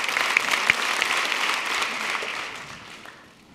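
A large hall at a party congress breaks into sustained applause for a speech by Stefan Löfven, dense and lively at first, then thinning and fading toward the end.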